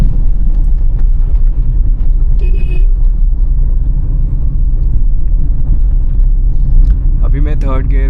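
A Hyundai i20 engine hums steadily in third gear on a narrow mountain road, a constant loud low rumble heard from inside the cabin while someone talks over it.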